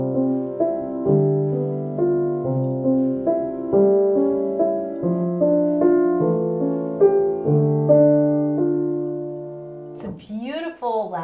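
Solo piano plays a soft, flowing passage from Schumann's Arabesque, with the left hand carrying a filigree inner line of steady overlapping notes, close and gentle, and a brief burst of speech at the very end.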